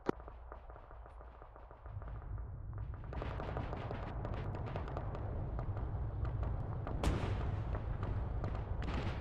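Tank cannon fire in the Arma 3 World War II battle game: a sharp blast at the start, then a steady heavy roar of engine and battle noise, with another loud crack later, all fairly loud and without talking.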